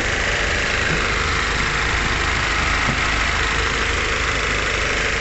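A BMW car engine running steadily after a jump start, a loud, constant idle hum with a slight knocking rattle, close and continuous with no talking.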